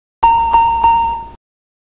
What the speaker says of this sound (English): and the triple chime.